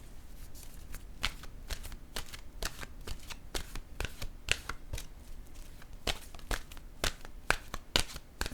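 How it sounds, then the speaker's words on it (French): An oracle card deck being shuffled and drawn from, giving close, crisp riffling snaps and card flicks in irregular quick bursts, fairly soft, with no talk. "Je vais piger maintenant une carte de mon oracle de l'âme intuitive."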